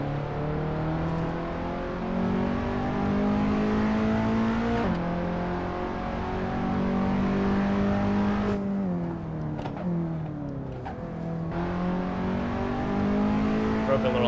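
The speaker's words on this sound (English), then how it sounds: "can you guys hear the car?" Steady engine drone of a car in a racing video game, holding pitch then dipping and rising again through downshifts and acceleration around a track, continuous and fairly loud with faint talk now and then.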